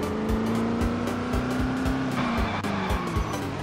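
A Mustang driven in Project Zomboid, its engine holding a steady droning note with tires squealing and skidding, loud and continuous throughout with a rhythmic thumping underneath.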